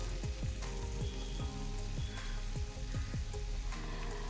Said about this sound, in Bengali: এরপরে আলুটাকেও আমি ওই পেঁয়াজের সাথে খুব ভালো করে ফ্রাই করে নেব